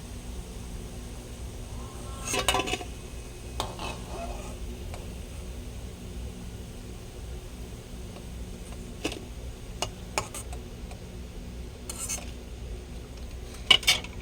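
Palm fritters being lifted out of hot frying oil, scattered metal clinks and scrapes of a utensil against the pan over a faint low bubbling hiss, with a few sharper taps near the end.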